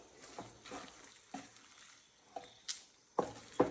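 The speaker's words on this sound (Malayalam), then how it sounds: "ഇനി കുറച്ച് ഏലക്ക പൊടിയും കൂടെ ഉണ്ട്. അതുകൂടെ ഒന്ന് ഇട്ട് കൊടുക്കാം. എന്നിട്ട് ഒന്നുകൂടെ ഒന്ന് മിക്സ് ചെയ്യാമേ." A spoon stirring cardamom powder into thick homemade Mysore pak mixture, giving soft scraping strokes and several sharper taps against the pan, close and fairly quiet.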